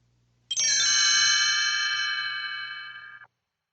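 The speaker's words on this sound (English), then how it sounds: "You will know it is time to turn the page when you hear the chimes ring like this." A single bright chime rings out with a clear metallic tone, sustaining and slowly fading for a few seconds before cutting off.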